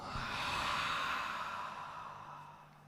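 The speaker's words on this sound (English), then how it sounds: "One big breath as a team. Let's inhale. And a big exhale." A group at a New Year's Day breathwork and meditation session lets out one long, audible exhale together, a broad breathy rush that swells and slowly fades.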